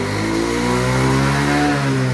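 A repaired Honda Beat scooter engine revs smoothly and steadily, a close, continuous mid-pitched whine that climbs slightly in pitch over two seconds.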